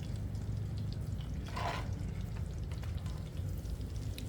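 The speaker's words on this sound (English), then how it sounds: "it's fine that this oil is gonna drip onto the Blackstone" Hot frying oil drips from fried cheese curds onto a Blackstone griddle, a soft continuous crackle and patter with a brief louder sizzle midway, close and alone.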